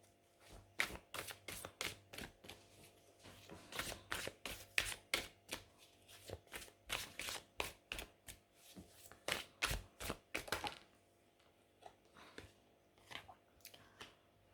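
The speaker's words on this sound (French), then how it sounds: "je vais aller ramasser les deux cartes qui sont tombées" Tarot cards being gathered up from a table make soft, rapid taps, slides and shuffling flicks in an irregular run, close and quiet, with no talking.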